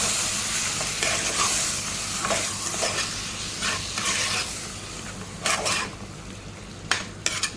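Dried prawns, about half a kilo, frying with greens, salt and turmeric in a pan, a steady close sizzle broken by repeated scraping stirs, with a few sharper clinks of the utensil near the end.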